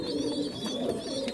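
Imported Cobra breed pigeons cooing softly and steadily at close range, a low continuous murmur with faint higher chirps over it, with no talk.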